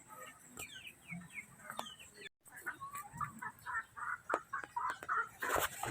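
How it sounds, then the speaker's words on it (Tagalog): Chickens cluck and chatter in a farmyard just after being fed, a close, irregular run of short clucks and calls with a few sharper chirps, and no voices. "Katatapos lang magpakain ng manok."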